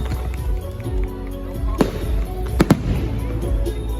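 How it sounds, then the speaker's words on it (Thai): Fireworks at the 130th anniversary celebration of Udon Thani city pop and crack in a few sharp bursts over a dense crowd rumble, with a voice talking through the scene. "ให้ท่านได้เชิญชมดูพลุไฟนะคะไปพร้อมๆกันนะคะสวยงามมาก"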